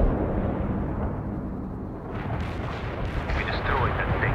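Artillery shells in the World in Conflict video game crash down in a dense run of booming, rumbling blasts, loud and close, with a brighter crackle of impacts building toward the end.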